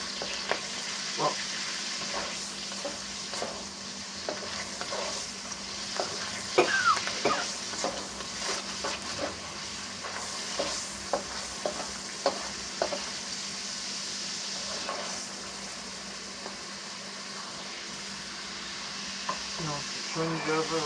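Chicken blood frying in a pan and being turned like scrambled eggs, a soft continuous sizzle broken by repeated scraping and stirring taps of the utensil against the pan.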